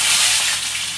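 Onion hits hot oil already crackling with cumin seeds, giving a loud, close, continuous sizzle and hiss that settles slightly over a brief moment.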